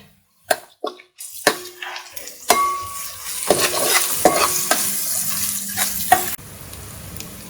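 Ginger garlic paste frying in a pan for a mutton and chana dal curry, with a few clinks at first and then a loud, close sizzle and scraping stirs that cut off abruptly near the end.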